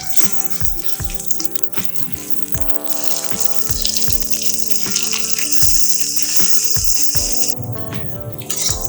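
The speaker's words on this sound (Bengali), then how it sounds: "এই চালটা একটু ভাজা হয়ে গেল" Soaked Gopalbhog rice and cashews fry in a pan, giving a steady hiss of sizzling oil with regular scraping and clinking as a spatula stirs, close and fairly loud.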